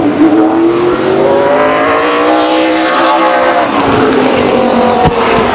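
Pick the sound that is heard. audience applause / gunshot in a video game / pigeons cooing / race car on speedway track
race car on speedway track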